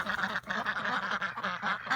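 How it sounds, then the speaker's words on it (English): Ducks quacking outdoors on a freezing morning, a steady run of rapid, overlapping quacks close by, loud and continuous without pause. "Come on, duck ducks."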